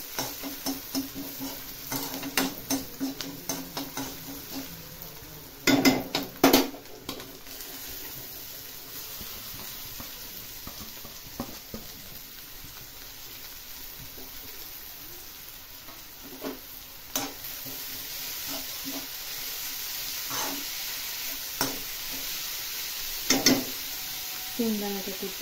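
Onion frying in a pan for a bhangri wild-vegetable dish, a low steady sizzle with intermittent stirring scrapes and clinks, with a voice talking over part of it.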